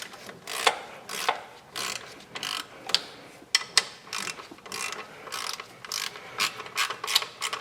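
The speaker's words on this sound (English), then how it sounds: "And now we can tighten those bolts." A ratchet wrench tightening the thermostat housing bolts on a Dodge Caravan 3.3L V6, giving rapid clicking bursts in repeated strokes, close up and fairly crisp with short pauses between pulls.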